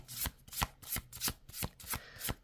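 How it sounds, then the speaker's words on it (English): A deck of tarot cards being shuffled, with seven quick, evenly spaced riffling bursts at close range and no voices. "Just going to do another shuffle here."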